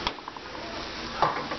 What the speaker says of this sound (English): I'm gonna mix it again just to make the rice blend with the onions and the corn